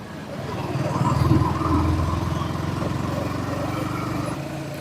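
A Yamaha XSR 155 motorcycle rides up a flyover in low gear. Its engine drones steadily and fairly loudly throughout, swelling a little early on along with rushing road and wind noise.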